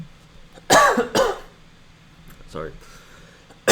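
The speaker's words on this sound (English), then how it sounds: "I feel weird coughing" Two sharp coughs close to the microphone, then a softer throat noise and a brief spoken word, all in a quiet room.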